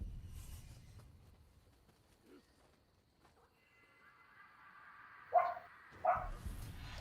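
A dog barks in Nioh 2: two short, sharp barks close together near the end, following a quiet stretch of game ambience and a faint voice at the start.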